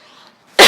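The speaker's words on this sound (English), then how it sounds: "Sneeze or cough into a tissue" A person gives a deliberate demonstration cough: one sharp, loud burst that arrives suddenly after a brief stretch of faint room tone.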